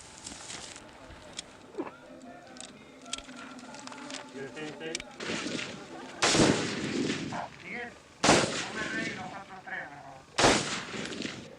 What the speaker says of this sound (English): So far, the shooting is only at targets.